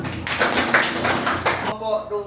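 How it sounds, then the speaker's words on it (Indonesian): A classroom group claps together at a primary school, a short burst of rhythmic hand clapping with children's voices mixed in, ending abruptly into quieter room noise. "Oke, tepuk tangan."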